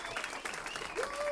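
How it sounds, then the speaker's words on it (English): Audience applause, a soft diffuse patter of many hands clapping at a distance, fairly faint, with a brief tonal whistle-like sound near the end. "A round of applause for my favorite bird, Professor Chad the Bird!"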